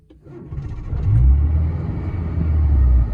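A car engine cranked with the self starter catches and settles into a low, steady idling rumble, close and loud, with no talking over it.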